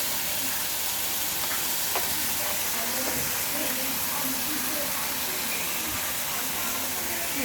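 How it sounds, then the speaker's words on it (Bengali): Boiled lentils for dal frying in a pan with a little salt, a steady close sizzle and hiss, with faint scraping stirs under it. "একটু নুন দিয়ে এটাকে ফ্রাই করবো, করে নিয়ে ডালটা ঢেলে দেওয়া হবে।"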